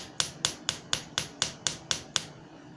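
Nine evenly spaced hammer blows on a small metal ring worked without an anvil, sharp ringing taps in a steady rhythm, close and clear with no talk.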